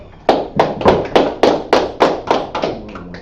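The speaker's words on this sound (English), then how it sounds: "All right, let's clap it up." A congregation at a Sabbath service claps together in a steady, even beat, about ten sharp claps ringing out close and loud, with no talking.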